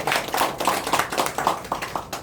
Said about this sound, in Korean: 우리 강사님한테 박수 한번 보내주세요